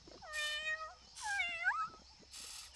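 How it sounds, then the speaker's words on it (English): A cartoon dinosaur in a children's rescue show meows like a cat, three distinct rising-falling meows spaced about a second apart, clear and close against a quiet background. "that guy's speaking cat."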